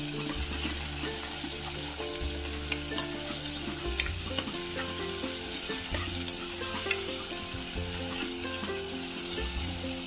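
Turmeric and green chilli paste frying in a pan, a steady sizzle under repeated stirring and scraping of a utensil against the pan, close and continuous with small clinks throughout.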